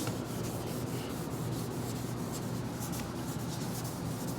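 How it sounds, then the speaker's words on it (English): A sanding block rubs primer smooth over a repaired area on a car body, giving a steady, continuous close-up scraping hiss with a fast back-and-forth rhythm throughout. "Basically what we're doing is we're smoothing out the primer so paint can lay on it."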